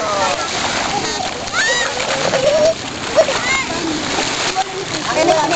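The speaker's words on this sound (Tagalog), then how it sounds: "Pong, langoy ka, Pong!" Water splashes as a child swims at a beach, with repeated splashing and sloshing close by, under the chatter of children and adults.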